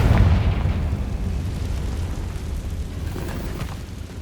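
A Confringo fire spell explodes in the video game Hogwarts Legacy, a loud, deep boom that rolls into a long, fading rumble with no talk.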